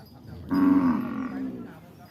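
Cattle moo on a Thai farm, where free-ranging native cows are kept. One long, deep, loud moo swells and fades over steady outdoor background noise.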